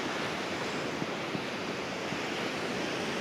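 Large Baltic Sea waves break on the shore in a continuous, dense roar of surf, mixed with wind buffeting and no voices.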